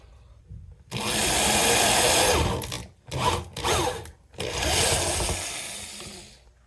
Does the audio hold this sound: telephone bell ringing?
no